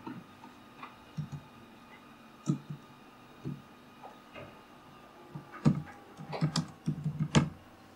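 Computer keyboard keys tapped while entering a poet's name in InPage publishing software, sparse scattered clicks early that build into a denser burst of close typing near the end, with no talking.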